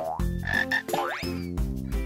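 A cartoon frog croak rings out in a children's sign-language song, mixed with bright, tonal musical sounds that rise and fall over about two seconds.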